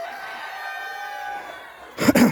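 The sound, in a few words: chickens clucking and rooster crowing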